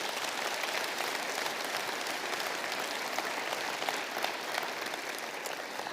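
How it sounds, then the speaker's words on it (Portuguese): A church congregation applauding together, a dense, steady clatter of many hands clapping at moderate distance that holds evenly for several seconds without voices. "Vamos aplaudir ao Senhor por esta palavra."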